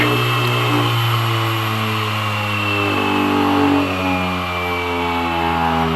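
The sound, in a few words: opened Seagate Barracuda 7200 RPM hard drive running loudly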